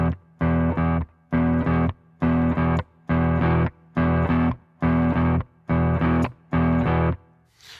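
Electric guitar chugs a basic 12-bar blues riff with palm-muted strings, eight evenly spaced loud, distorted bursts with short silent gaps between them, played alone.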